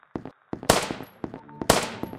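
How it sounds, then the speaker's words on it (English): A burst of loud video game gunfire in a Minecraft animation: several sharp cracks, then two heavy blasts with ringing decay, close and echoing. "are those gunshots?"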